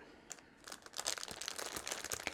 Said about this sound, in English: There's going to be a lot of, hopefully gentle, but crinkling in this video